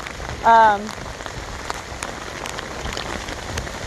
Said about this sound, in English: this is the rain we needed